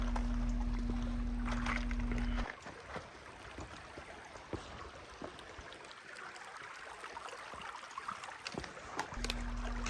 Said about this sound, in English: And here we have another creek crossing.